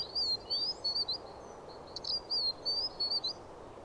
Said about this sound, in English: Outside of breeding season, twites will gather in large numbers,